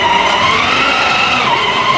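A child drives a new ATV, the engine whining steadily with tire scrub and skidding, close and continuous for the whole stretch.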